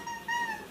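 A cat giving a single short, fairly clear meow with a slight rising tone, lasting under a second with no other sounds competing.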